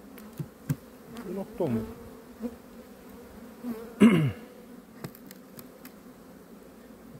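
Honey bees buzzing around a frame of an opened hive, with faint wavering hums and a couple of louder bee passes close by, while a voice speaks briefly.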